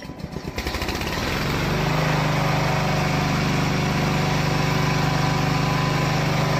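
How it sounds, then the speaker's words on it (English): The gasoline engine of a Vigorun VTLM600 remote-controlled mowing tank is pull-started, then quickly catches and settles into a loud, steady, buzzing run close by, with no talking. "there are three methods to start the gasoline engine. First, pull start."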